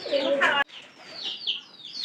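Pigeons coo close by, a throaty call breaking off sharply, then softer cooing and rustling from the birds.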